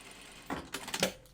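Short bursts of a sewing machine stitching fabric binding along a raw edge, a quick mechanical whir with rapid needle taps, close and moderately quiet against a soft room background.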